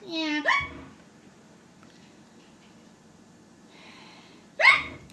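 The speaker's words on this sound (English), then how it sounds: "Those hiccups are pretty bad." Hiccups from a person who had just drunk milk: two short, sharp voiced gulps about four seconds apart, close and fairly loud, with quiet breathing between them.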